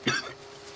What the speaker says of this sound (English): my little cough is still here, so please forgive it